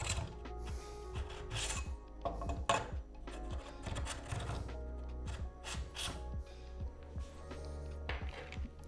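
A 6mm Allen wrench works on the seat post of a VanPowers City Vanture e-bike as it is extended and adjusted, giving close, intermittent metallic scrapes, ticks and grinding turns in irregular bursts.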